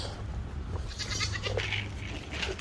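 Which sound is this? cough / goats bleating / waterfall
goats bleating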